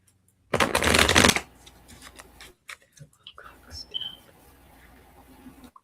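Tarot cards riffled and shuffled in a loud close burst lasting under a second, followed by quieter slides, taps and a single card being drawn and placed down.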